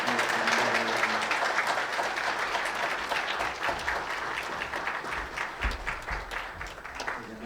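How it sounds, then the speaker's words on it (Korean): A church congregation applauds warmly during a Sunday worship service, producing a dense, sustained wash of many hands clapping together at steady volume, filling the hall for several seconds without talk. "큰 박수 해주시기 바랍니다"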